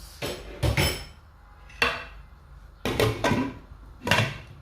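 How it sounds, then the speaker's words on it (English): A pot of okra draw soup is stirred and then covered, giving several loud, close metallic clanks of spoon and lid against the pot, spaced irregularly with short pauses between them. "So I'm just going to stir and then cover the pot."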